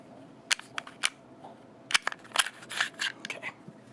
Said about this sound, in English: I'll go ahead and put the conversion barrel in there